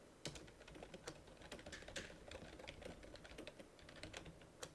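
Code is typed on a computer keyboard in a steady run of quiet, rapid key taps over a faint room hum, with no talking.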